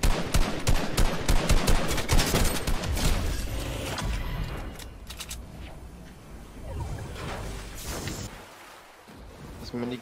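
Rapid minigun fire in Fortnite Chapter 2, a dense rattling burst loud and close at the start, then scattered shots and gameplay noise thinning out, with a player talking over it.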